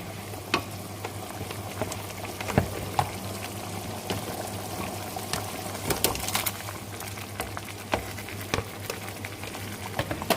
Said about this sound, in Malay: Bila dah nampak mendidih macam ni, kita masukkan ayam ya.